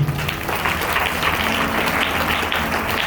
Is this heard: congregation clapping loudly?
yes